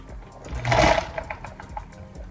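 A huge AC motor spins a rotary subwoofer and sets the whole rig shaking: a brief surge of broadband whirring and rattling rises and fades over about a second, with lighter mechanical clicks and buzzing continuing afterward.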